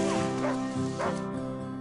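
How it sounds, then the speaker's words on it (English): Arctic sled dogs, Malamutes and Siberian Huskies, bark and yip in quick overlapping bursts with a whining, howl-like tone, loud and close. "These are original Arctic sled dogs, the Malamute and Siberian Husky."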